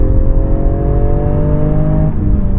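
A Toyota GR Yaris three-cylinder engine hums and revs close by, its tone holding steady then dropping as the revs ease off.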